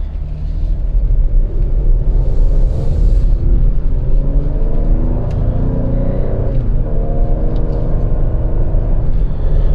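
A 2021 Ford Explorer Platinum AWD cruising in sport mode, its engine droning loud and steady with tones climbing as the transmission holds gears, then a shift and another gradual rise, all under continuous road rumble.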